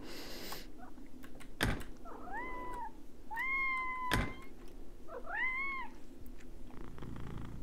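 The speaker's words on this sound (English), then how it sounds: "I can hear a cat, and I can see a cat." A cat in a game jam video game gives several distinct, close meows in a slow series, separated by two sharp clicks, with a quiet background hum.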